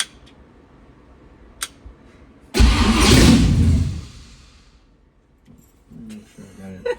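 A car engine cranks and catches after its loose ignition plug is pushed back on, a loud broadband burst that roars for about a second and a half and then settles, with faint clicks before and quiet voices after.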